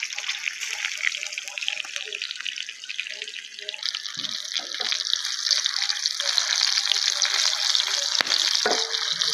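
Steady sizzling and crackling of a tempering in hot oil for kadhi pakoda fills the clip, loud and close, with faint scraping and clinks from stirring.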